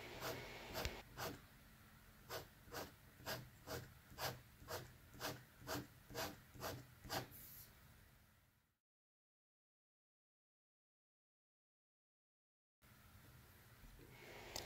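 A pen draws long horizontal hatching lines on paper: about a dozen evenly spaced, soft scratchy strokes in a steady rhythm, close and quiet, followed by several seconds of silence.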